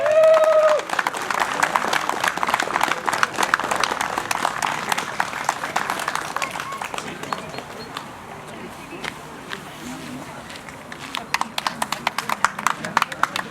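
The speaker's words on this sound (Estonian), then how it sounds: "Suur aplaus talle." A crowd at a fishermen's day party in a harbour tavern claps for the host. Dense, patchy clapping mixes with people talking, loud at first, then thinning and settling before a brief late swell.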